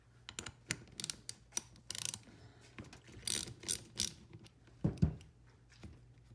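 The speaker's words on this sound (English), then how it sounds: "You do that with a 12mm, removing the 12mm bolt right here." Ratchet clicking in short irregular bursts as a 12mm caliper bolt is removed on a 1978 Yamaha XS1100 motorcycle's brakes, close and crisp with brief pauses and a couple of clunks.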